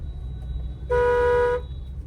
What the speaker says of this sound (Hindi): लॉन्ग हॉर्न प्रेस करिए।